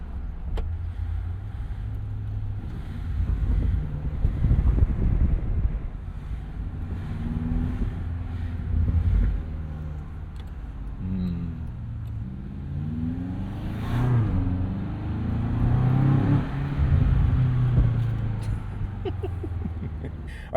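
Land Rover Defender Octa with a 626 hp twin-turbo V8 cruising through city streets with the windows down, a steady low engine drone that swells in a couple of revving pulls, with wind buffeting and traffic noise around it.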